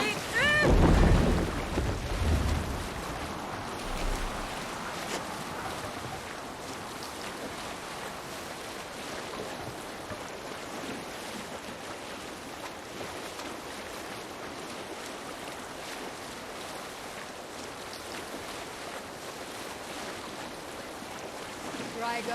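Longship from Assassin's Creed Valhalla ploughing through open sea, a steady wash of waves and wind rushing past for the whole stretch, with a louder splash near the start and voices briefly present.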